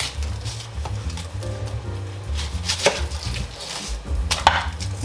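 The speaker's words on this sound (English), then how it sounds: "I'm just gonna put a slit in the onion, and we're just gonna keep the onion whole." A knife slits a whole onion for Jamaican escovitch fish, with a few sharp cuts and crunches over a low steady hum, no talk.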